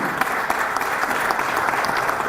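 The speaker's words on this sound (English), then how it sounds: "can you give a big round of applause to Ambassador Sarna and the embassy?" An audience at a Mahatma Gandhi 150th birthday celebration in Washington, DC applauds Ambassador Sarna and the embassy, a full, continuous roar of many hands clapping evenly throughout.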